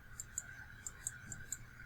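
A computer mouse clicks six times at uneven intervals, each a small sharp tick, faint and close against a low steady hum.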